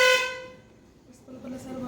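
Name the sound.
school van horn honking in the morning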